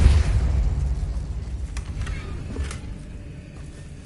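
Incendiary and Repulsor spells cast in the video game Hogwarts Legacy, a moderately loud booming burst at the start that fades into rumbling, with a few sharp pops trailing off.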